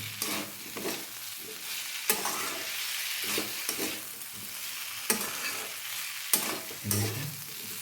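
Drumstick and potato vegetable curry with poppy seed paste being stirred and fried in a pan, with steady sizzling and repeated scraping strokes of a spatula, fairly loud and close, no talking.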